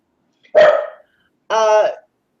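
A dog gives two loud, close barks about a second apart, with silence around them.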